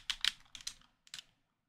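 Keys clacking on a computer keyboard used to control a local multiplayer horror game, a quick burst of several taps, a pause, then a final pair of strokes, close and clear with no talk.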